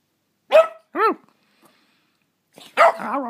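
A dog barking indoors: two sharp close barks, a pause, then a louder bark trailing into a whiny yip, loud and alone.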